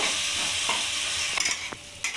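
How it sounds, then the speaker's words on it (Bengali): Boiled potatoes mashed with a spatula in a hot frying pan for aloo paratha filling, a constant sizzle broken by a few sharp scraping strokes of the spatula, close and without voices. "এবার আমি খুন্তি দিয়ে আলুগুলোকে ভালো করে ম্যাশ করে নেব।"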